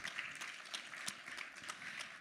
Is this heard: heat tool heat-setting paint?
no